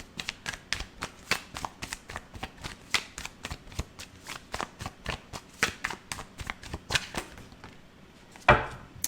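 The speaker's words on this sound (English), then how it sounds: "Let me get a couple more cards here to close out the reading." A deck of tarot cards is shuffled and handled for a reading, making a steady run of crisp, close slaps and riffles, with a single louder snap at the end.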